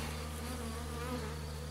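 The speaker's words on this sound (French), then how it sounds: "Mais là je pense que les abeilles vont monter tranquillement." Honeybees from a swarm settled on the ground drone in a dense, continuous buzz close by, steady and unbroken with no voices.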